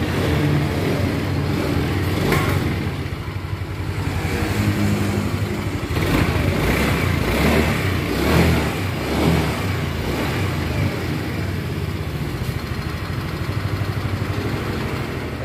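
A Yamaha Soul GT 125 motorcycle engine runs steadily nearby after repair of rough running, revving up several times and settling back to a smooth idle, loud and continuous.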